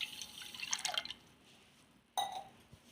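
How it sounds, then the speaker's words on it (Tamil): Water poured from a tumbler into a glass while making kulukki sarbath, a quiet splashing trickle in two short bursts separated by a pause, close and faint. "இதில் ஒரு டம்ளர் தண்ணி ஊற்றிக்கலாம் ஃப்ரெண்ட்ஸ்"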